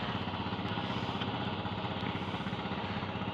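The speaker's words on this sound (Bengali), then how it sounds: "ছোট্ট একটা ট্রলার যাচ্ছে" A small trawler boat near the Nazirpur launch ghat in Barisal runs its engine with a steady, rapid throbbing chug that holds evenly throughout, moderately loud and without any voices.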